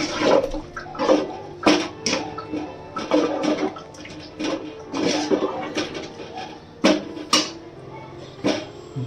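Water swirled around a mixer jar and poured into a pan while cooking mutton gravy, repeated sloshing splashes and clatters in irregular bursts, with someone speaking intermittently.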